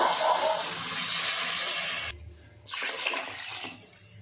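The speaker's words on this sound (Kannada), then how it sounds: "ಅರ್ಧ kg ಅಕ್ಕಿ ತೊಗೊಂಡಿದ್ದೀನಿ, ಅದಕ್ಕೆ ಡಬಲ್ ಅಷ್ಟು ನೀರು ಹಾಕ್ತಾಯಿದ್ದೀನಿ." Water is poured onto rice in a cooking pot, making a steady rushing splash that pauses briefly then resumes before tapering off, loud and close with no talk.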